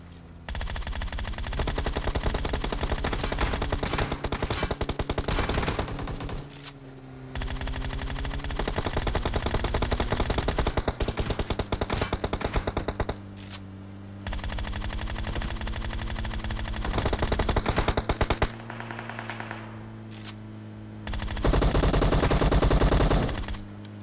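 Loud, sustained automatic gunfire in the video game PUBG Mobile, long rapid bursts with brief pauses between them and a low engine-like drone underneath.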